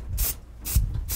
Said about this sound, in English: You really got to be careful when you spray these things.